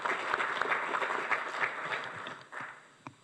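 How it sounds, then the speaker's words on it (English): An audience at a formal Kenyan speech event bursts into sustained applause, dense clapping throughout that thins out and fades near the end, with a few isolated claps trailing off. "can we just give them all a proper round of applause?"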